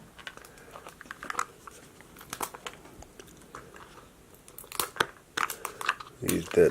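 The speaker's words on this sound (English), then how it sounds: "The packaging is tough to get through." Tough plastic packaging being torn and wrestled open: irregular bursts of crinkling, tearing and crackling, some sharp and some soft, spread across the whole stretch at a modest level and growing denser toward the end.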